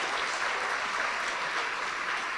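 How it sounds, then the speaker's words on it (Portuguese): A church congregation applauds in worship, a dense, steady wash of many hands clapping together, filling the room evenly from start to end. "E vamos aplaudir ao Senhor Jesus por cada vida que está chegando."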